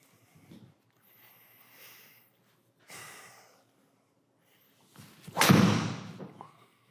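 Golf driver swing striking the ball with a graphite Tour AD shaft outdoors, a loud sharp impact followed by a decaying whoosh, preceded by a few faint softer sounds.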